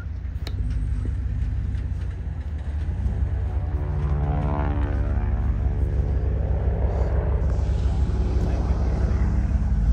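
A propeller aircraft at the Oshkosh airshow, a loud continuous engine drone with a rising and falling tone as it passes close by, broad rumble underneath.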